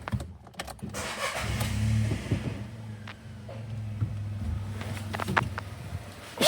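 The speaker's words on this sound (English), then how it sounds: "she runs pretty good for a little 3-cylinder" A small three-cylinder car engine, freshly repaired after crash damage, idles steadily with a low, even hum, with brief clicks and knocks layered over it.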